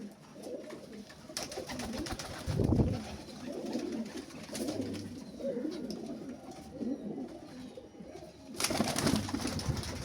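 Giribaz pigeons at a pigeon sale in Ashoknagar coo softly in repeated low, throaty bursts, with a few louder rustling moments and faint background noise.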